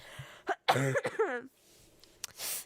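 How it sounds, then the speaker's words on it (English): A few short, dry coughs close to the microphone, followed by a voiced throat sound and a breathy exhale, with quiet gaps between. "It wasn't a real cough, but this is a real cough."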